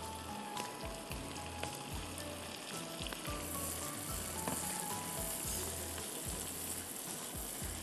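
Sliced onion sizzles in a pan with ginger and garlic, a steady, loud broadband frying hiss with faint scrapes and clinks, continuous throughout with no voices.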